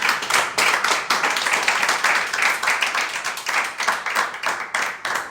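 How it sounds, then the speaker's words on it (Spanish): Congregation clapping for the Lord during a church service, dense rhythmic handclaps filling the room continuously and loudly, with no voices standing out. "Aplauda al Señor, hermano."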